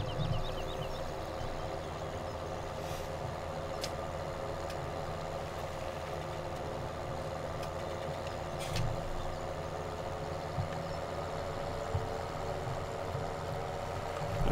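A tractor engine in Farming Simulator 2017 drones steadily as it strains to pull a trailer, a continuous low rumble with faint clanks and no talking.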